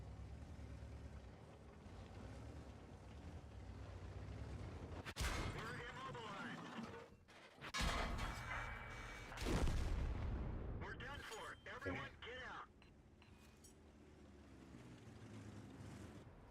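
Artillery fire in a tank video game with an M60 tank: several heavy booming blasts and rumbling explosions over a continuous engine drone, the loudest bursts clustered in the middle of the clip.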